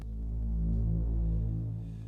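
A low, dark ES2 synthesizer pad holds one sustained chord, swelling gently and fading slightly at the end, with no other sounds.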